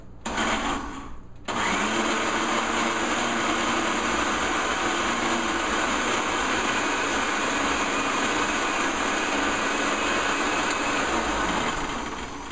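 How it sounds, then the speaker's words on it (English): A blender whirs through a chocolate avocado mousse. After a brief quiet start, a loud, steady motor whine runs without a break to the end. "And again, our trusty blender,"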